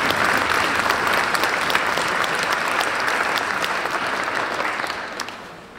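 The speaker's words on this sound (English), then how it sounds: "Let's give them a round of applause." A large gathering applauds the sailors at the Silverrudder 2018 sailing race award ceremony, steady dense clapping that holds for several seconds and then slowly tapers off.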